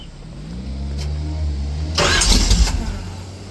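A 1970 Chevrolet Chevelle wagon engine cranks briefly, then catches and roars to life with a loud rev, heard up close.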